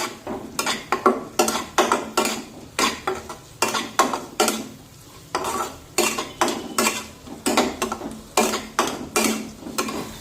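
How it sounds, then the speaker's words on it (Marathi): Ginger garlic paste sautéed with onions in a pan, brisk rhythmic scraping and clinking of a spoon against the pan repeated steadily throughout, over a faint sizzle. "काही सेकंद आलं लसूण पेस्ट सुद्धा व्यवस्थित कांद्यासोबत परतून घेऊया।"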